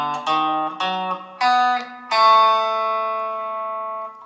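An electric guitar picks the opening notes of the Day Tripper riff, a few distinct plucked notes that step in sequence and then ring out into a long sustaining tone, clear and close with no talking.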